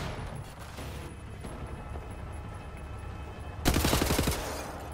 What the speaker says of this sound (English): Bullets to the face.